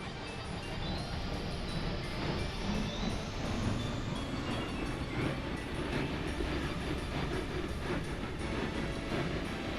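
Train running in the Workers & Resources: Soviet Republic video game, a steady continuous rumble and rolling clatter of rail wagons holding at an even level for the whole stretch, with no talk.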